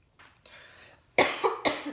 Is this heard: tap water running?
no